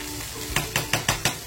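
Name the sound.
Tol fish frying in pan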